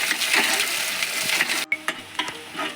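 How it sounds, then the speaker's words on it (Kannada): Onions sizzling loudly in hot oil, a close, dense crackle that quiets after a sharp break, followed by a few scraping stirs of a spoon in the pan. "ಈಗ ಎಣ್ಣೆ ಒಳಗೆ ಫ್ರೈ ರೀ ಇವ"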